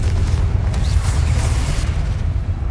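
A Confringo explosion spell effect in a wizard-themed Spider-Man game, a loud sustained low booming roar with a burst-like rumble filling the whole moment, no voices.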